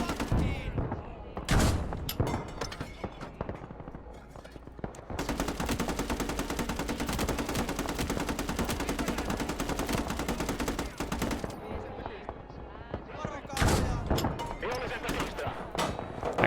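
Rapid machine-gun fire and scattered gunshots ring out in a video game battle, with a long sustained burst in the middle and sharp isolated shots before and after, loud and close, mixed with occasional voices.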